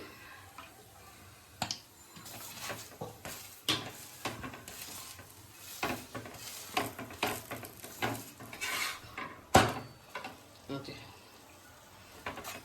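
Pitha frying in oil in a pan while being flipped and turned over and over: soft sizzle under a string of scraping clinks and taps from the spatula, steady and close, without speech.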